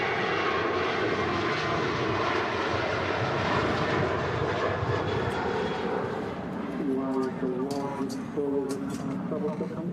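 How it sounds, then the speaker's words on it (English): Airbus A380 engines at Manchester Airport, with reverse thrust used only on the inboard engines while landing, give a loud, steady broadband roar throughout, with a voice talking over it near the end. "only the inside engines actually have the reverse thrusts on the 380"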